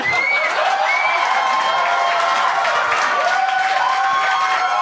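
A loud TV game-show studio audience applauds and cheers steadily throughout, dense clapping with whoops and shouts rising above, close and continuous.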